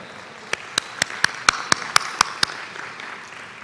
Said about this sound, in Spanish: Unamos nuestras voces y un aplauso para dar la bienvenida a nuestro querido padre